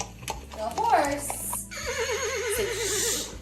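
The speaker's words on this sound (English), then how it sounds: "The horse." A horse neighs in a loud, wavering whinny, followed by a second long quavering neigh, with faint clip-clop beneath, part of a farm animal sound sequence.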